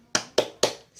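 Children clapping the 'tepuk semangat' clap in a primary school class, three sharp evenly spaced claps in quick succession, close and clear.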